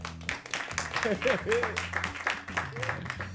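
Studio audience on a live Brazilian TV show claps for a brass band, light applause at a distance while a presenter's voice and some tonal sounds carry over it.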